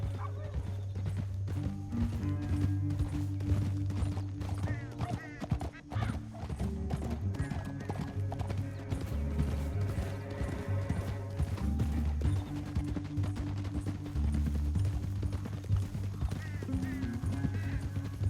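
Rhythmic clip-clop of galloping horse hooves in the video game Red Dead Redemption 2 runs throughout, with occasional horse whinnies over a steady rumbling background.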